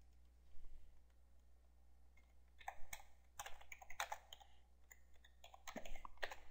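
A computer keyboard clatters in short uneven bursts of typing as notes are written, close and fairly quiet with pauses between flurries and no voices.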